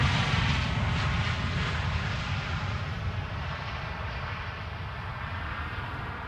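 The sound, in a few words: KLM Boeing 737 jet airliner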